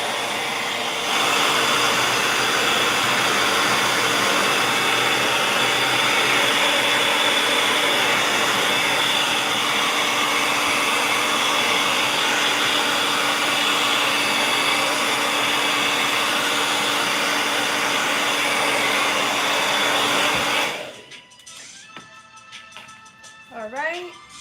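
A hair dryer dries paint on an 8x10 canvas, roaring loudly and steadily at close range for about twenty seconds before cutting off into a quiet room.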